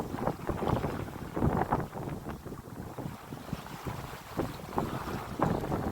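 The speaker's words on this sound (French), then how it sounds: "le vent il monte tout doucement" Steady wind buffets a sailboat at sea, a continuous broadband rush with gusty swells rising and falling over six seconds, no voices.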